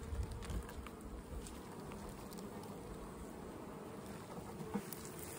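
A steady, dense buzzing drone of many honey bees flying, continuous and fairly close, with no voices.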